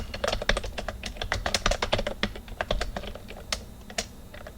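Rapid, uneven keystrokes clatter on a computer keyboard, close and fairly quiet, with short pauses between bursts and no voices.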